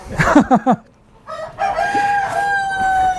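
A rooster crows once, a long wavering call, preceded by a few short clucking notes and a brief pause.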